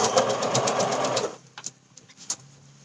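A sewing machine stitches a scrub sleeve in a steady, fast rhythmic whir for over a second, then stops, leaving faint clicks and handling noises.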